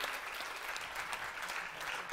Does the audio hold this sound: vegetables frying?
no